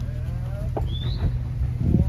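Nelore cattle at a rodeo, a brief low bellow amid murmuring arena crowd noise and distant whistles, moderately loud and short.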